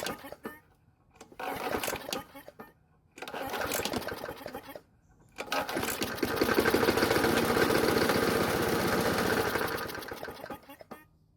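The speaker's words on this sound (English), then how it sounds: "as you can tell, this engine doesn't sound all that great, more like a rock tumbler" A worn Poulan Pro lawn mower's small engine sputters and stalls in bursts, then runs roughly with a rattling, uneven clatter like a rock tumbler; loud and close, with no speech.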